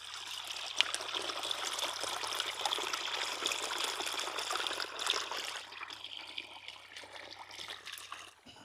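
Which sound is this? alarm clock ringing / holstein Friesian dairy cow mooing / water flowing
water flowing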